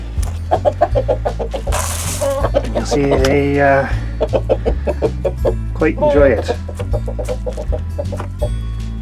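Hens cluck busily and repeatedly close by in quick bursts while eating sprouted whole grains, while a person speaks briefly over them.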